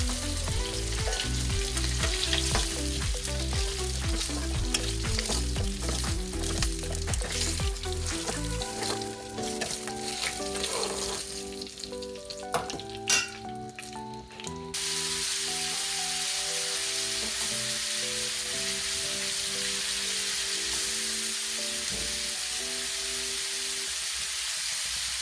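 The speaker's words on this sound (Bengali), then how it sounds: "এইভাবে বাকি মাছগুলোর পিসগুলো ভেজে নেব।" Pieces of shankar fish fry in a pan of hot oil, giving a loud, steady sizzle with stirring clatter early on and a continuous hiss throughout.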